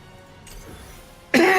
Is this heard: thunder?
no